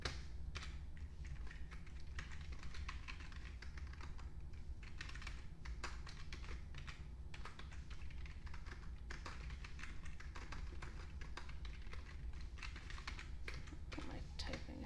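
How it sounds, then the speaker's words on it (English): Quiet, irregular keystrokes on a computer keyboard tap out in uneven bursts and pauses, soft and close throughout. "My typing is slow."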